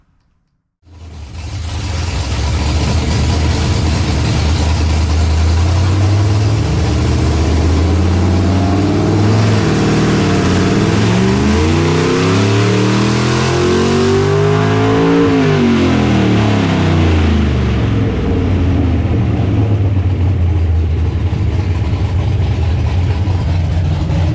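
A nitrous 339 stroker small-block Chevy engine starts and is revved hard on a hub dyno, its loud roar climbing through sweeping pulls and falling back before cutting off.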